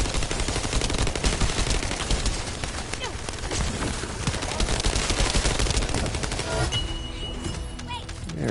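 Rapid, continuous automatic gunfire from The First Descendant crackles dense and loud for the whole stretch, with volleys overlapping and barely easing toward the end.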